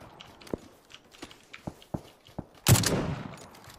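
Gunfire in a shooter video game: a run of sharp, separate shots at an uneven pace, then a loud, dense burst of shooting that slowly fades.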